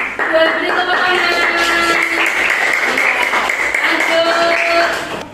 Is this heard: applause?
yes